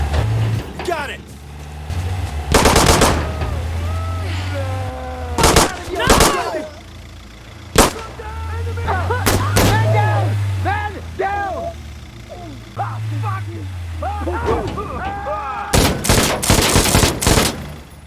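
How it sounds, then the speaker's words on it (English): Gunfire in Insurgency: Sandstorm sounds in sharp, loud machine-gun bursts and single cracks, spread across the clip. Shouted team voices and vehicle rumble run underneath and between the shots. "I got the machine gun!"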